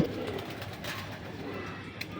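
Breeder pigeons coo softly and continuously at close range, their low throaty calls layered with faint rustling and background noise.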